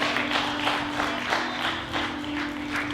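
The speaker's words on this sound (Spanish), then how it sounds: "Un aplauso para el Señor." A church congregation applauds during a Sunday service with steady clapping that fills the whole moment, a low hum running underneath.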